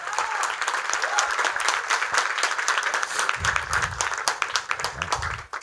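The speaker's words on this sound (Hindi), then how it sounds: "उसके लिए तालियां हो जाए।" An audience at a student play applauds for the person who pushed the script into being written, a dense, steady roar of many clapping hands that carries on throughout, with a faint voice briefly underneath near the end.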